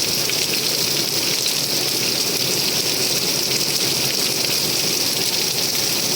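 Dense, continuous roar of heavy rain pouring down, loud and steady throughout with no voices.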